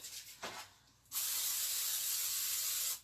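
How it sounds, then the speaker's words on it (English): A couple of brief sprays of cooking oil are followed by one steady, close hissing spray lasting about two seconds, then silence. "I use a spray. You can use any kind of spray."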